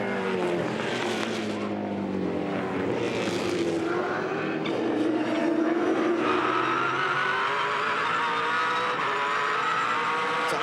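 A V8 Supercar at the Bathurst 1000 in 2008 races loudly past, its engine note falling under hard braking and then climbing again as it accelerates away, with a steady roar running the whole time.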